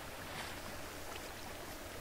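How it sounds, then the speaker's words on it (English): A waterfall in the Minecraft video game, a faint, even rushing of water flowing continuously in the background with no voices over it. "let me try to block out this waterfall"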